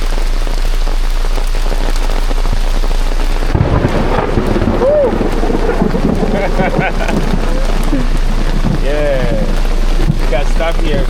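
Heavy rain drums on a surface close by a Honda Civic, loud and constant, while people talk and call out over it.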